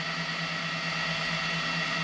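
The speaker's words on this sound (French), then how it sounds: "mais là il y a tous les ventilateurs qui sont allumés" Several cooling fans run steadily on an Elegoo Neptune 4 3D printer, including the nozzle and print-head fans, giving a constant, even whirring hum with no variation or talk.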